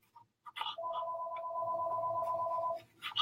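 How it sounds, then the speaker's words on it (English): A telephone rings in a home kitchen during holiday appetizer preparation, giving one long steady electronic ring of about two seconds, fairly close and clear, with brief clicks and handling noises just before and after it. "Sorry, my phone's ringing."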